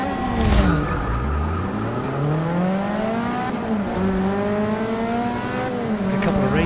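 Race car engines in Forza Motorsport 6 roar continuously and loudly, rising and falling in pitch through gear changes, with a brief squeal of tires near the start.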